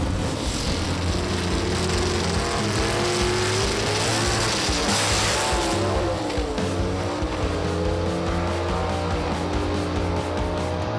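Gasser drag racing cars make a loud pass down the strip, engines roaring with rising and falling revs over a wash of crowd and track noise throughout.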